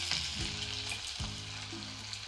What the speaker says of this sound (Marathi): मोहरी मस्त तडतडली